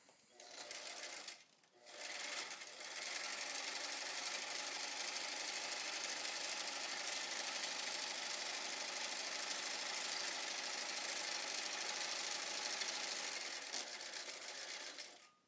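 A sewing machine with a Teflon foot stitches steadily at close range, starting with a short burst, pausing briefly, then running continuously for most of the stretch before stopping.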